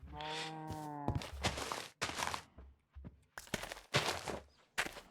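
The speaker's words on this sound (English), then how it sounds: "Now you're back to trying to slaughtering the cow." A cow in a video game lets out a long, harmonic moo at the start. It is followed by a run of dull thumps and footstep-like knocks that stop and start.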